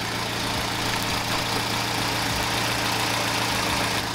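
A car engine idles roughly with worn-out engine mounts, a steady close hum with a low droning tone and faint knocking under it, running continuously without any voices.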